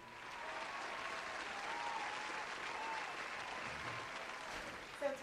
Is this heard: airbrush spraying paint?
no